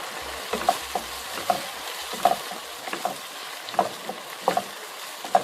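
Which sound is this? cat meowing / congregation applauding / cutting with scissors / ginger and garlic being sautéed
ginger and garlic being sautéed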